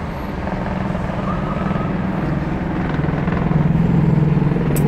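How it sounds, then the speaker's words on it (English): A helicopter flies over a freeway during a police chase, its rotor making a continuous rhythmic thumping with a low engine drone that grows slightly louder toward the end. "There's a helicopter."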